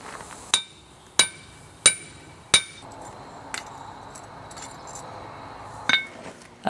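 A hammer strikes a hot cut tool on a steel knife blank over an anvil, giving several sharp ringing metallic blows in a steady rhythm, then a pause and a few more hits.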